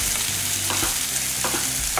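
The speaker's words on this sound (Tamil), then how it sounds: "இந்த வெங்காயம் வந்து ரொம்ப வதங்கணும்னு அவசியம் கிடையாது, கொஞ்சம் லேசாக வதங்கினா போதும்" Small shallots and ginger fry in a pan for adai, a close, dense sizzle broken by a few quick spoon-stirring scrapes over two seconds.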